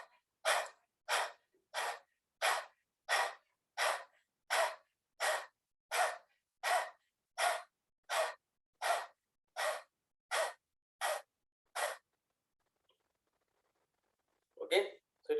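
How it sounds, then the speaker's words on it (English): Dog breathing in a yoga exercise: a steady series of about sixteen rapid, forceful breath pulses in even rhythm, close and clear, followed by silence and a brief bit of talk at the end. "You are going to inhale, rapid exhale. So it is forceful inhale and forceful exhale."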